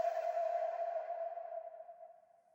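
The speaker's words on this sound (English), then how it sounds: "This is just a Cashmere reverb pluck. Without any processing," Unprocessed Cashmere reverb synth pluck: a single sustained tonal note with a long reverberant tail, starting bright and slowly fading away on its own.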